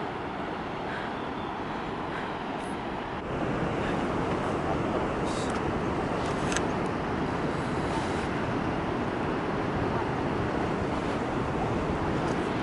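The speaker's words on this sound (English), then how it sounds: "That is the waterfall." Yosemite Falls thundering down its cliff, heard near the top of the hike as a steady, loud broadband roar of rushing water with wind buffeting the microphone, growing fuller after the first few seconds.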